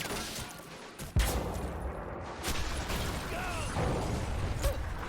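A tank cannon in Men of War fires a round at a building's brick wall: one sharp, loud blast near the start, followed by rumbling debris and clattering mechanical noise with scattered battle sounds.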